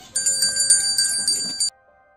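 A bright chime rings out in a quick run of about eight ringing strikes, clear and close, then stops abruptly.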